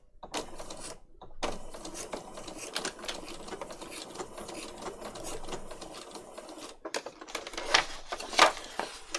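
A domestic sewing machine stitches patchwork on paper in a rapid mechanical whir, running in bursts broken by short pauses.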